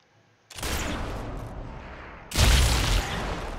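Gunfire in the video game Sniper Elite 4 at a military camp, a sudden loud shot bursting in and ringing out, followed by a second, heavier blast that booms and decays into sustained rumbling noise.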